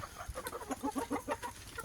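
Free-range chickens, foreign breeds raised on the ground by traditional methods, cluck in a steady series of short, close calls with no voices.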